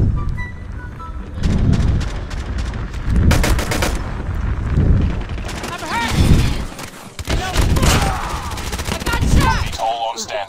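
Repeated bursts of rapid pistol gunfire in Call of Duty Mobile team deathmatch, in uneven volleys with short gaps, loud and close, mixed with some game sounds.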